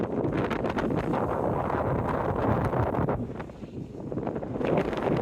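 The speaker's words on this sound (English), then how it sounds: "Why all the wind?" Strong steady wind buffeting the microphone on a seawall along a beach seafront, a continuous loud roar with gusty swells and no talk.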